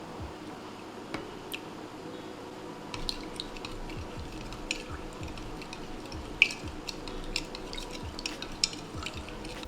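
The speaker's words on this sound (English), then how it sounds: "Added the first batch into the glue and mix it all up" Slime glue being mixed with a borax and orange juice activator, giving soft wet squishing and stirring sounds with small sticky pops and clicks, close and fairly quiet.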